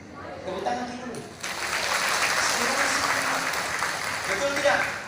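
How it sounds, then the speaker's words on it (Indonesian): An audience at an Islamic sermon gathering breaks into applause after a short stretch of speech, the clapping rising quickly and holding as a steady crowd wash. "Tepuk tangan kita dulu."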